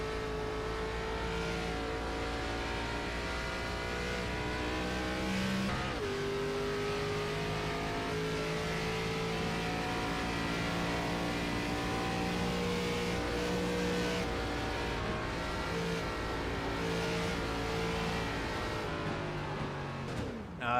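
Race car engine heard onboard during a qualifying lap in a series finale in Miami, a loud, continuous close-up drone whose pitch climbs and drops through gear changes and corners, sustained throughout.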